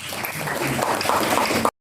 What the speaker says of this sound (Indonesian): Tepuk tangan buat Pak Beni.